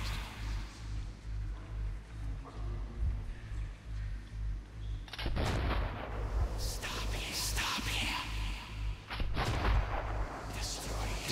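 Gunshots in Metro 2033 Redux, a few sharp, fairly loud bangs standing out against a low rumbling backdrop, with quieter stretches between them.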